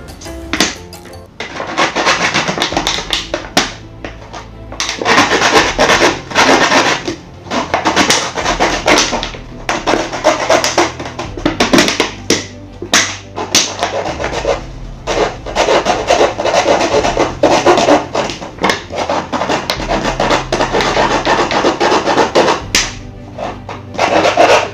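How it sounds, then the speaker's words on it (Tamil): A plastic Mirinda soft-drink bottle being cut by hand, with continuous scraping, rasping and crinkling close up, steady and busy throughout with brief pauses. "இப்போ இந்த பிளாஸ்டிக் பாட்டில் நான் கட் பண்ணுறேன்"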